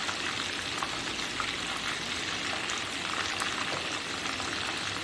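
Beef seekh kebabs frying in a pan, a steady close sizzle and crackle of hot oil that runs on evenly without pause and with no voices.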